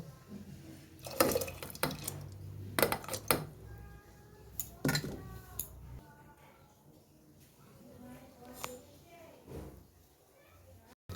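Washed masoor lentils go into water in a pressure cooker, with close splashes, drips and clinks of metal pots and utensils, and brief talk in between.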